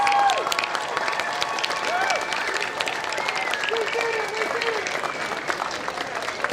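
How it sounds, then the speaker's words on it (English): A large commencement audience applauds steadily in a big ceremony space, dense clapping sustained throughout with a few voices and whoops rising above it. "Let's give them all a round of applause."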